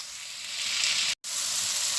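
Tomatoes fry in a pan for a Filipino ampalaya dish, a steady close sizzle and hiss that drops out briefly for a split second partway through, then resumes; no voices.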